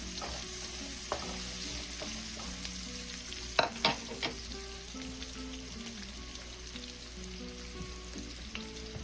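Ginger and garlic fry in a pan for stir-fried string beans with beef, giving a continuous soft sizzle with scattered clinks and scrapes of a utensil, a few sharper knocks near the middle.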